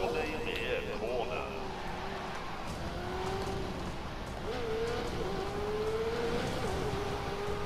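A car driven on a narrow road lined with woods, its engine droning steadily and close with rising and falling pitch as it accelerates, while a voice talks over it.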